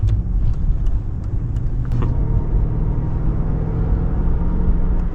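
A Mercedes-Benz E500 Limited sedan's engine pulls with a deep, steady rumble that holds close and loud, with a few light clicks early on and no talk.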